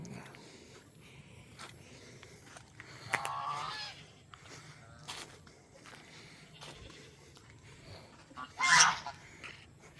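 A male duck honks and quacks loudly in a short burst near the end, with an earlier rasping call, over faint outdoor background noise and footsteps.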